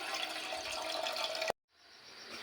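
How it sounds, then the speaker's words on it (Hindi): Water poured into a cooking pot for boiling macaroni: a steady, hissing rush for about a second and a half that stops abruptly, leaving only a faint residual hiss. "इतना पानी मैं इसके अंदर ऐड करूँगी जिसमें ये मैकरोनी अच्छे से मेरी बॉईल हो जाए।"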